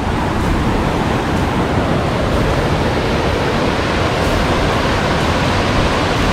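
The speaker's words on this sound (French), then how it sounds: "je vais vous faire découvrir le petit torrent" A small mountain torrent rushes steadily along a trail near Méribel, its broadband roar loud and continuous with no breaks, like close-up falling water.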